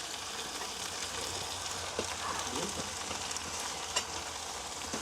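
Potatoes and leeks frying in a pan in an outdoor village kitchen, a continuous close sizzle with a few clacks of stirring.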